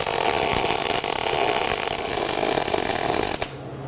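Welding a mount onto a car's rear end, a continuous loud crackling buzz that runs for a few seconds and then cuts off abruptly near the end.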